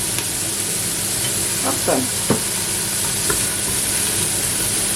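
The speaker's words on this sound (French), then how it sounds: "Voilà, les oignons commencent à être dorés là." Onions seasoned with oregano fry in a pan and are stirred, giving a loud, steady sizzle with a few scraping stir strokes, while a voice speaks briefly.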